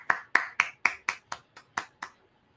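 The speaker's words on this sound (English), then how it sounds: "Let's have a round of applause for Nikita." Eight sharp hand claps ring out one after another at a steady, slightly slowing pace, close and clear in a quiet room, a small welcome for a participant named Nikita at a PCOS management workshop.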